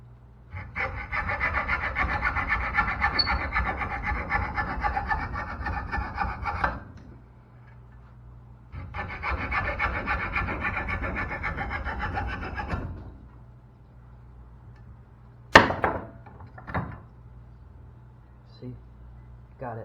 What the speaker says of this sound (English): I could use the Dremel, but I'm going to use the saw.